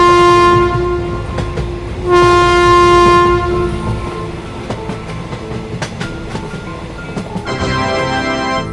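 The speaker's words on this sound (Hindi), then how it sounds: "तभी ये ट्रेन यहाँ से जाने लगती है" A cartoon-style train departs a station. Loud, sustained horn blasts are followed by rhythmic clickety-clack of wheels on rails and a rising rumble as it pulls away.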